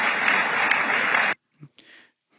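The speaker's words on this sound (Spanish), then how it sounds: "los aplausos y las ovaciones a Trump" Loud crowd applause and ovation for Trump, dense and sustained for over a second, then cutting off abruptly into near silence with a couple of faint noises.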